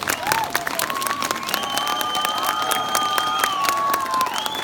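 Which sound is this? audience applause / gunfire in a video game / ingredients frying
audience applause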